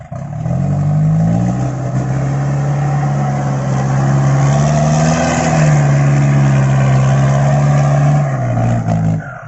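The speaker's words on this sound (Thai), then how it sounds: "ไปขับรถไถไปเอง" A farm tractor engine runs steadily while driving over wet soil, a loud continuous low drone with slight pitch rises and falls, close and alone.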